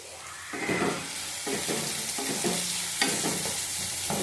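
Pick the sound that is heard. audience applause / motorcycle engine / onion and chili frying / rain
onion and chili frying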